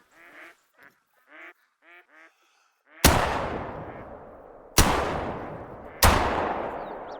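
Ducks quacking and geese honking in short bursts, then three loud rifle shots with long echoing tails in the hunting game Hunter: Call of the Wild.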